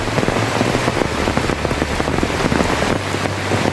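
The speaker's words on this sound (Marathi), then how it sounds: "पाऊस पण मस्त लागतो आहे" Steady heavy rain pours over flooded, muddy paddy fields during rice transplanting in the Konkan, a dense unbroken hiss with scattered nearby drops pattering loudly throughout.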